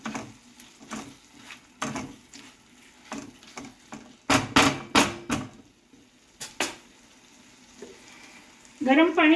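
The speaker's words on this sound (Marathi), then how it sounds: "तांदूळ जरा चांगला परतून घेतोय आपण." Rice sautéed in a pan with a soft frying hiss and repeated sharp scraping strokes of a spoon, some in quick bursts, close by with little else around.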